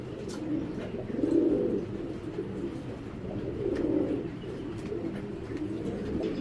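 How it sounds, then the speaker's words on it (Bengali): Indian Shahjahanpuri pigeons coo close by in soft, low, rolling calls that swell and fade every couple of seconds over a dull background hum. "ইন্ডিয়ান শাহজাহানপুরি জাতের কবুতর"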